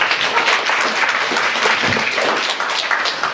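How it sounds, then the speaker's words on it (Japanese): An audience claps to welcome a speaker at a lecture in Sapporo, a dense and steady wash of applause from many hands that carries on without a break. "皆さん拍手で迎えてください。"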